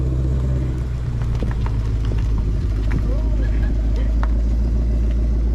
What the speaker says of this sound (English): look at that Mustang